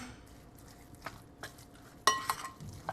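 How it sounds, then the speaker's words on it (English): A utensil scrapes and clinks against a bowl while turkey Salisbury steak mixture is stirred, soft at first, then a few sharper knocks near the end with no talking. "let's stir it up a little bit"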